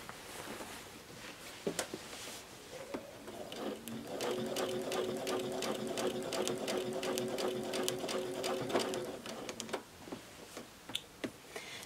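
A sewing machine free motion quilting spider web patterns whirs at a steady close hum for several seconds, with short bursts and faint clicks of stitching before and after.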